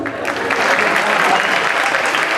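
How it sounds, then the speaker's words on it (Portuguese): An audience at a lecture applauds, a dense, loud, steady wash of many hands clapping that runs throughout without a break. "É isso aí, pode aplaudir, obrigado."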